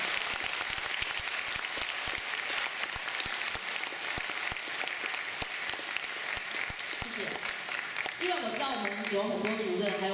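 Audience at a school string orchestra concert claps steadily for the staff, with individual sharp claps standing out from the crowd, and then a voice starts speaking over the fading applause near the end.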